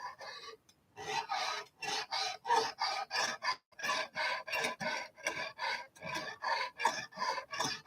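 A knife blade drawn repeatedly across a Lansky sharpening stone in a garage, giving a steady series of rasping strokes at an even rhythm, close and alone.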